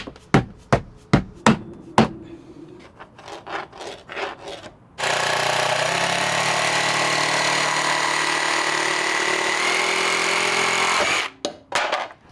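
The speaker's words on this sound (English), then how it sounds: "my jigsaw cuts aren't the straightest cuts" A jigsaw cutting camper flooring, heard after several sharp knocks and taps; the saw runs loud and steady for about six seconds with a buzzing rasp, then stops and more clunks follow.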